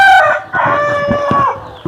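A fighting-breed rooster on a farm in Machilipatnam lets out a single loud, close crow that cuts off after under two seconds.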